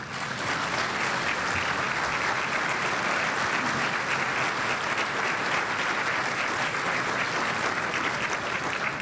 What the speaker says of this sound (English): would you please stand so that we can give you a round of applause?